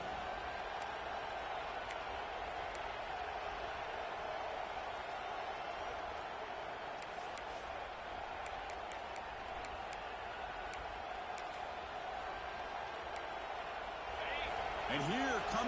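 A football stadium crowd at a Tigers game roars in a steady, distant wash during a red zone defensive stand, swelling louder near the end, with a commentator talking over it.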